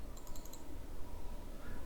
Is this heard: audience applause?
no